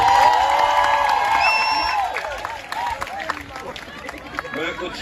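An audience at a mushaira poetry reading claps and cheers, a noisy crowd wash with scattered whoops, while a voice speaks over it.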